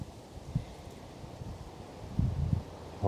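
Cold, gusty wind blows across Baggers Lake during a carp match-fishing session. It makes a low, faint rumble with soft buffeting gusts against the microphone, swelling more strongly near the end.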